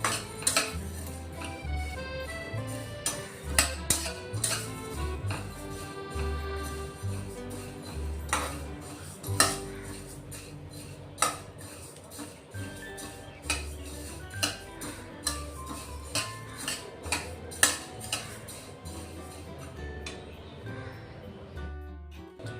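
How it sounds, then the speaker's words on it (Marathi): Masala spices dry-roasted over a low gas flame in a pan, with a spoon repeatedly clinking and scraping the metal in an irregular rhythm over steady background sound. "आता हा मसाला आपण चांगला भाजून घेऊ स्लो गॅसवर नॉर्मल भाजायचा आहे"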